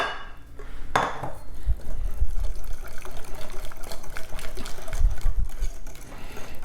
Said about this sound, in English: next I'm going to go and pour just maybe half of that.